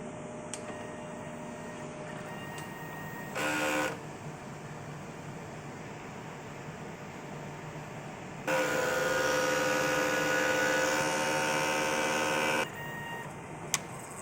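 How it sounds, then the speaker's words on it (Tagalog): Printer running a head cleaning cycle, giving a steady low mechanical hum with a short whirring burst early on and a longer, louder whirring stretch near the end. "So after natin ma-on yung printer, so mag-cleaning po ako."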